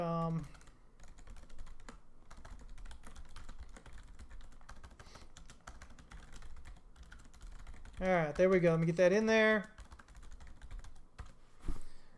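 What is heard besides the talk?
typing on a computer keyboard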